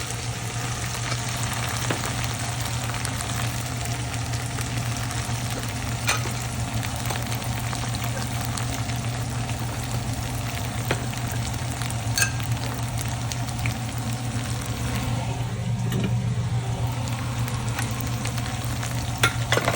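Ginger-garlic paste and spices being stirred and fried in a pan for a coral fish dopiaza, with a steady sizzle and scraping stirs over a low constant hum, no voices.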